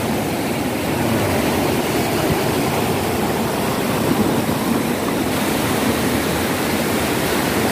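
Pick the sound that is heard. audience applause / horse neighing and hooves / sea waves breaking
sea waves breaking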